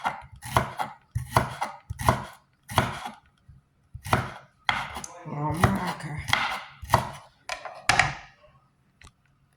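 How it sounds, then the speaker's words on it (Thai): A knife chops shallots rapidly on a cutting board in quick bursts of sharp taps, close and clear, with brief pauses between runs. "เราก็ หั่นหอมเสร็จเรียบร้อยนะคะ"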